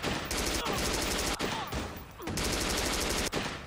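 Rapid enemy shotgun and gunfire in the Watch Dogs video game, a dense run of loud, sharp blasts with short gaps between bursts, heard up close and with no talking.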